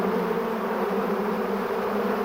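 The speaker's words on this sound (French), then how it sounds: "pour affronter cet épais et bruyant nuage de 160 millions d'abeilles affamées" Dense, steady buzzing from a huge swarm of hungry honey bees, tens of millions strong, at dawn in California after a four-day journey. The loud drone runs without a break and fills the whole clip.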